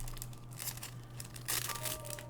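Soft plastic bag crinkling in short bursts, growing louder toward the end, over a steady low electrical hum.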